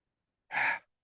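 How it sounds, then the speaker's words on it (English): A single deep inhale to full lung capacity during a guided breathing exercise, one smooth breathy rush lasting about a third of a second, close and clear with no talking. "Inhale, full lung capacity."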